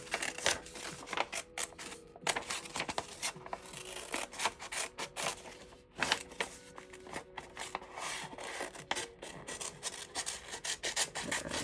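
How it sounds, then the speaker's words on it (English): Scissors cutting around a hippo drawing on paper, heard up close as quiet, uneven rasping snips and rustles repeating steadily, with no talking. "Cut around the hippo."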